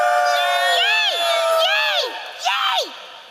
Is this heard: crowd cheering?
yes